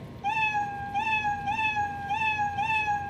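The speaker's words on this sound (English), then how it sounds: "play a meow sound" A Scratch program's cat meow sound effect plays repeatedly in a steady series of clear, bright mews, each slightly rising, close and loud with no talking.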